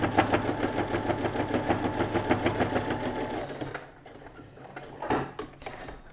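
A sewing machine stitches a seam in a fast, even mechanical rhythm for a few seconds, then stops, leaving softer handling noises and a brief clunk.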